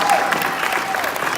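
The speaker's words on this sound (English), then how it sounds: "let's give a round of applause to our AU." Crowd applause at a youth football league Heisman awards night, a dense continuous patter of clapping with faint voices and cheering mixed in.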